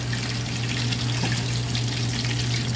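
Water streams steadily into a cooking pot for a vegetable dish, a constant gushing pour over a low steady hum, with no talking.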